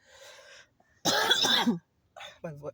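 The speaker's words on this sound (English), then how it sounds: "I'm about to cough again" A person coughs, one harsh burst in the middle followed by a smaller rough cough, with quiet breathy sounds before it.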